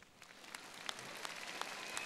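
Audience applause at a weekly concert of a televised singing competition, faint and distant, with scattered individual claps over a soft crowd bed.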